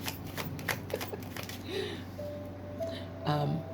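Soft riffling of tarot cards being shuffled close up, a quick burst of flutters followed by quieter handling, with a faint voice underneath.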